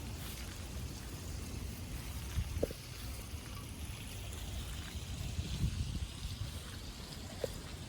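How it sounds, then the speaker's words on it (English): Rainwater trickles steadily down a rain chain and gutter outdoors, a soft continuous babble with occasional faint drips over quiet background rain. "I just love the sound of running water."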